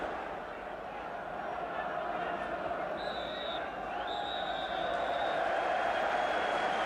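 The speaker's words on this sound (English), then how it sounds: "And the applause from the crowd as we reach the half-time point of this 86 Birmingham derby." A football crowd at Aston Villa v Birmingham City, the 1986 Birmingham derby, applauding at half-time: a steady, distant wash of clapping and crowd noise under a commentator's voice.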